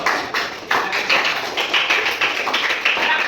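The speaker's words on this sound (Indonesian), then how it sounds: "Tepuk tangan untuk kelompok 1" Students in a classroom Arabic lesson clap for a group of classmates, giving a brisk, uneven patter of many hands that holds steady throughout.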